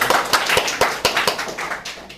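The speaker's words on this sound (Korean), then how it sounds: "박수 한번 할까요?" Audience clapping at a church retreat: a short round of hands clapping in a hall, fairly close and loud, with a few sharp individual claps standing out as it tapers off.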